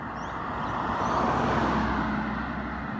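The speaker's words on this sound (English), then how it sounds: "it's just a little bit of local traffic" Local traffic rolls along Edgar Street, a quiet suburban road near Rosanna Station, as a steady broadband roar of passing vehicles that swells slightly midway and holds loud and close throughout.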